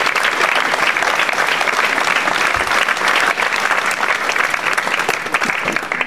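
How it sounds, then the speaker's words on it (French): Sustained, dense applause from an audience at a municipal New Year's wishes ceremony in Nilvange, loud and steady throughout, with no voices rising above the clapping. "je vous demande d'applaudir chaleureusement l'engagement de Louis pour notre ville"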